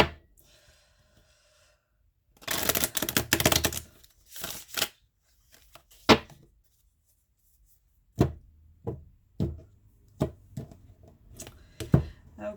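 Tarot cards are shuffled near and alone in quiet, a dense riffling burst followed by several short crisp snaps and flicks spaced apart.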